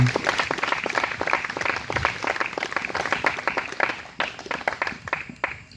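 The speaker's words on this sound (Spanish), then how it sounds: "Le damos otro aplauso al Señor en esta noche." A church congregation claps enthusiastically during an evening worship service, uneven hand clapping with distinct individual claps, rising and falling in loudness before thinning out toward the end.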